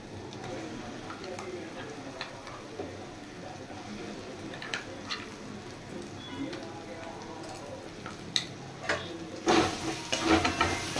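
Prawn paste being added to a hot pan with chilli powder and garlic-ginger paste, then stirred, giving a soft continuous sizzle with scraping spatula strokes that grow louder near the end.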